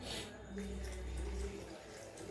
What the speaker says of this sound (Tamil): இப்போ நம்ம தண்ணி ஊற்றிக்கணும்